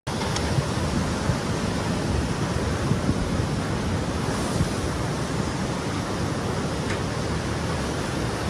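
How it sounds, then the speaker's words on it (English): Ocean waves crash onto the shore in a steady, loud roar of surf, continuous broadband wash with no voices, as rising seas push water inland during a flooding storm. "sending waves crashing onto the shore and flooding nearby areas."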